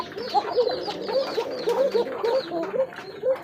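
A koka pigeon calls with a quick series of short, throaty coos in a steady rhythm, close by and moderately loud.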